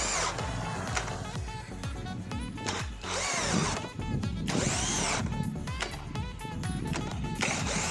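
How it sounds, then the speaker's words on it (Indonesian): A cordless impact drill at speed 2 bores into wood with a 10 mm wood bit, the motor whirring in loud bursts that stop and restart several times, close by. "Berikutnya kita akan uji tenaganya menggunakan mata bor kayu 10 mm."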